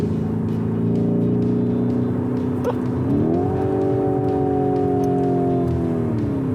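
A Lamborghini Urus engine roars loudly from inside the cabin as the car accelerates hard on a straight, its pitch climbing sharply partway through and then holding at a high, sustained drone.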